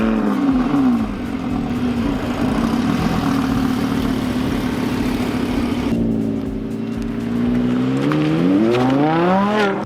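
An Audi R8 convertible with a 540-horsepower engine runs while driving: a steady, loud engine drone that drops in pitch, then climbs again as it revs up toward the end.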